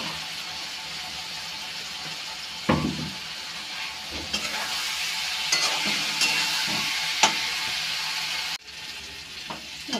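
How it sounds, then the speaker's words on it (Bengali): Spice paste frying in a pan with salt before boiled raw banana pakoras go in, giving a steady close sizzle with stirring scrapes and a few sharp utensil knocks, no talking. "একটু ভালো করে ভেজে নিই মশলাটা।"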